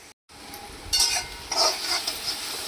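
Chilies, garlic and asafoetida sautéing in hot oil while being stirred for Gujarati methi dhebra, a soft sizzle with scraping stirs and light clinks from the pan, close and steady with no talk.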